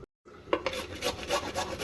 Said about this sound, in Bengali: এবার এই পেঁপেগুলোকে আমি গ্রেট করে নেব